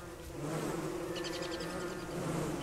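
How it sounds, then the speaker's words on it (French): A swarm of bees buzzes continuously in the video game Don't Starve, a dense, steady droning hum that fills the whole stretch at moderate loudness, with no speech over it. "Je suis en train de me faire agresser par une centaine d'abeilles."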